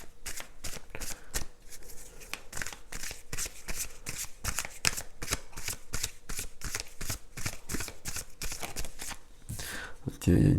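Tarot cards being shuffled by hand, close and crisp, in a long run of rapid riffling flutters and slaps with short pauses between them, ending with a louder thump.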